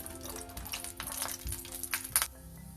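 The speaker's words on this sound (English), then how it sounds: "First we'll add cashews, saute these a little bit" Cashews sautéing in a little oil in a hot pan for a Karnataka-style avarekalu sambar, with faint sizzling and scattered clicks and taps of nuts shifting against the metal, close and quiet.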